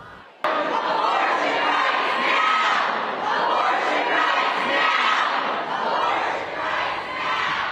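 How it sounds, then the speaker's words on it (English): Protesters shout in a state legislative chamber as lawmakers break for dinner, a loud, sustained roar of many voices with overlapping yells and chants that starts abruptly and keeps going without letup. "as they did, protesters in the chamber began shouting"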